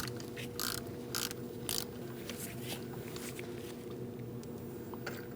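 A 5/8 spark plug socket works a spark plug loose on a 2000-2016 Mini Cooper, giving a few short, sharp metallic clicks and rasps over a low, steady hum of ambient noise.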